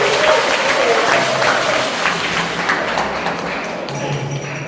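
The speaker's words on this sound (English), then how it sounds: "Please let's clap for him for being here with us." Church summit audience clapping for a visiting state president, a broad wash of applause that starts strong and gradually thins out over a few seconds, with faint murmurs beneath.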